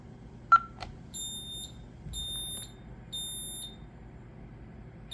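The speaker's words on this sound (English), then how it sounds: "First, we're going to start off with the fire alarm." A Honeywell Vista 20P alarm panel sounds its fire alarm in a room with steady background hum. A click comes first, then a loud repeating high electronic beep pattern in groups of pulses.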